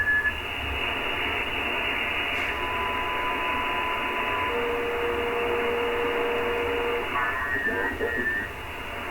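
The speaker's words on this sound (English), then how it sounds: "Morse code here." Morse code on a shortwave radio in the 7 MHz amateur band: faint keyed tones drift through a steady hiss of static and band noise, with a cluster of signals near the end.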